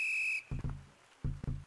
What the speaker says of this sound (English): Got the whistle.